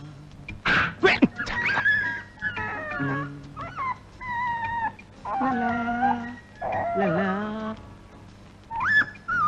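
A dog whimpers and howls in drawn-out, wavering cries, several rising and falling calls close by with short pauses between them.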